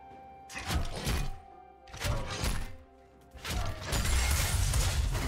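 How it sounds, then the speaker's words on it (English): A turret is destroyed in League of Legends, heard as a series of loud crashing, thudding impacts with crumbling debris in bursts, building to a heavy sustained collapse at the end. "Blue team's turret has been destroyed."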